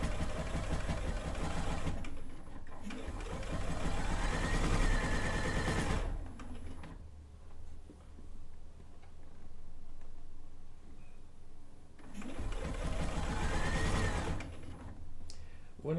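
A sewing machine stitches quilt binding in bursts, running for a few seconds near the start and again near the end, with quieter handling sounds and room noise in between.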